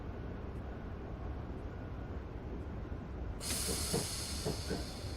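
Class 321 electric train running through the high-speed tunnels beneath St Pancras International, a steady loud rumble and roar of wheels on rail that swells into a brighter, hissing rush partway through, with faint squeals.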